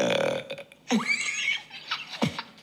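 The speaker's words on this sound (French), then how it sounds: "Notre talent est de faire des rots en ventriloque" Several loud, close burps in quick succession, deliberately produced with a croaky, voice-like tone, with a laugh mixed in among them.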